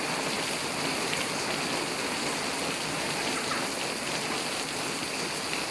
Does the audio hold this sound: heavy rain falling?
yes